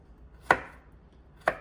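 A knife chops thawed frozen broccoli on a cutting board for one-pot fried rice, two crisp, close chops about a second apart in a quiet kitchen.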